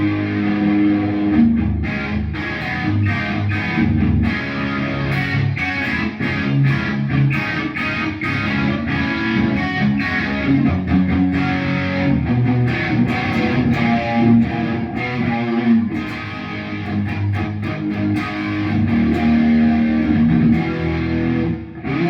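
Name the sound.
electric guitar through Rocktron Sidewinder low distortion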